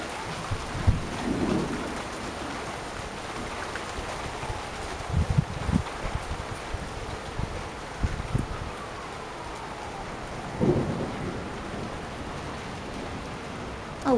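A heavy rain downpour during an isolated severe thunderstorm hisses continuously, with low rumbles of thunder rolling in and out beneath the steady rain.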